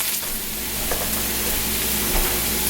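Onions with salt caramelizing in a pan, giving a steady, close sizzle and frying hiss that stays even throughout with no talking.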